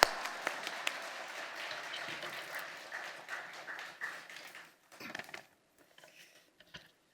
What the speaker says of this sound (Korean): 박수로 목사님 맞이하겠습니다.